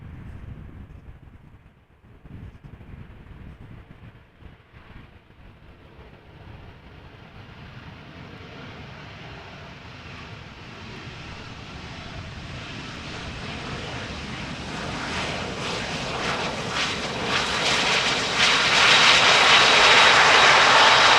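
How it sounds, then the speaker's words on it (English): An SAS Mitsubishi CRJ 900 long-range jet, 14 years old, touching down at Amsterdam Schiphol gives a rising engine roar that grows steadily louder and brighter as it nears, heard alone without talk. "Mitsubishi CRJ 900 long range, 14 years old. Now touching down."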